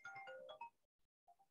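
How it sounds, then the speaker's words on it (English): Mobile phone ringtone during a lecture: a short, faint electronic melody of bright tonal notes, followed by a brief pause and two more soft tones. "Sorry, that's my phone."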